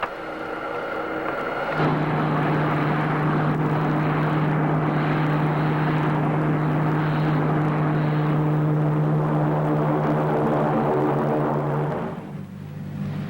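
A spaceship landing effect from a 1950s space serial: a loud, steady droning engine roar with a sustained low tone that swells in and holds for about ten seconds before cutting off, no voices over it.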